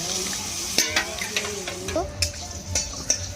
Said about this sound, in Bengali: ঢাকা দিয়ে সবজিটা একটু কষে নেবো